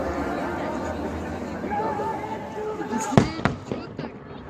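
Festive fireworks salute over chattering onlookers, then a cluster of sharp, loud bangs and crackling bursts in quick succession near the end.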